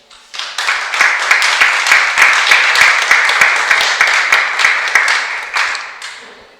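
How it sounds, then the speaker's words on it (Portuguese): A church congregation claps together during a Portuguese sermon, a loud, close burst of many hands with sharp individual claps poking through, rising quickly, holding steady for several seconds, then fading out. "Você pode aplaudir a Jesus por isso?"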